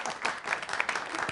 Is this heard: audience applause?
yes